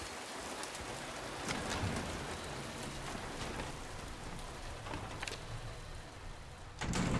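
Steady rain falling in the Silent Hill 2 Remake video game, a faint continuous patter with occasional louder drips and a soft thump near the end.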